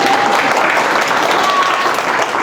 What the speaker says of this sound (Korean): 여러분들 박수로 환영해 주시면 도움이 많이 됩니다